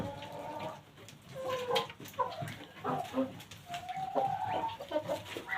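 Chickens cluck and small ducks peep and quack in a busy farmyard chorus, overlapping calls close by, with a dog barking briefly in the mix.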